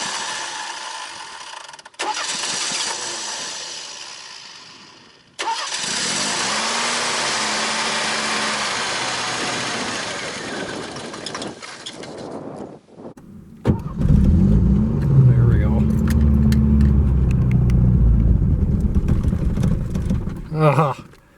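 1989 Ford Mustang, started for the first time in eight years, cranking and catching, then revved in long loud pulls with a deep, rough low-end rumble building toward the end, with people talking now and then.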